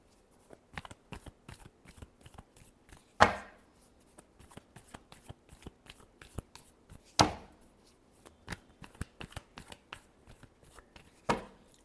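Tarot cards are shuffled by hand close up in a quiet room: a long run of quick, light riffling taps, broken every few seconds by a sharper, louder slap as the deck is squared.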